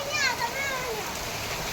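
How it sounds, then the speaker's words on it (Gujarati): Rain pours steadily in a continuous hiss and patter, with a voice and other voices chattering over it near the start. "તમે જોઈ લો કેટલો મસ્ત મજાનો વરસાદ ચાલુ થઈ ગયો છે"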